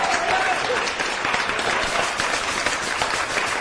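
A crowd at a live Dominican comedy or music show bursts into sustained applause, dense clapping holding steady and loud for several seconds without a break.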